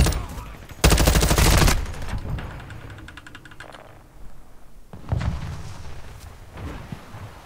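Gunfire in the Call of Duty Modern Warfare II video game, aimed at a sniper: a loud, dense burst of shots opens the clip, followed by scattered rattling fire and a second heavy burst near the end.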